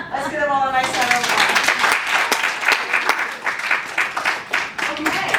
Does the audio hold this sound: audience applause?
yes